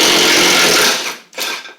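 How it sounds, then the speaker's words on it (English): A power tool spins bolts off a worn spindle on a John Deere D140 riding mower: one loud, harsh whir lasting about a second that winds down, then a second short burst. "all 4 bolts are going to come off though."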